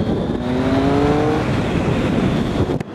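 A Triumph Speed Triple ABS motorcycle engine pulls hard in second gear, a loud, close, rising roar that climbs in pitch for over a second before settling into a steady drone and dropping off at the end.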